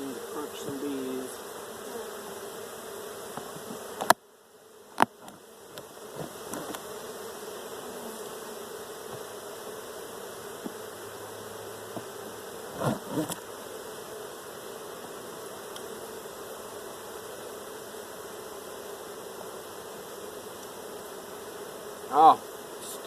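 Honeybees buzz steadily and close during an inspection of nucleus hives, a constant hum with a few bumps and brief handling knocks.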